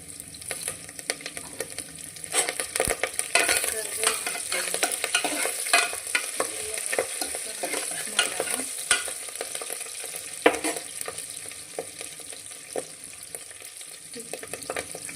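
Fresh curry leaves sizzle and fry in a pan as they are stirred, a steady close crackle with scraping strokes running throughout and no talk.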